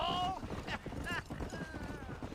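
Horse galloping in the video game Red Dead Redemption, a quiet rhythmic clip-clop of hooves running steadily beneath louder talking voices.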